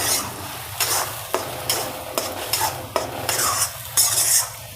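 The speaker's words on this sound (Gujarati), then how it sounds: "હવે એને મિક્સ કરશું" A carrot and beetroot barfi mixture being stirred in a pan, with rhythmic scraping strokes of a spoon against the metal about every half second over a soft sizzle, close and clear, no talking.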